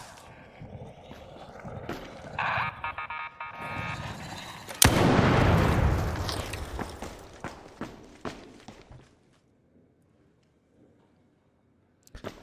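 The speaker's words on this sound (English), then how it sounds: "Somebody's shooting at us." Gunfire in the shooter game ARC Raiders: a burst of sharp shots and booms, loudest midway, over shuffling footsteps and movement, then dying away to near silence with a last faint crack at the end.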